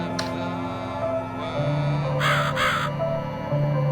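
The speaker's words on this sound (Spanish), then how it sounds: "El cuervo, otra vez." A crow in the video game The Cat Lady caws twice in quick succession, harsh and clear above a low, droning game soundtrack, with a fainter call just before.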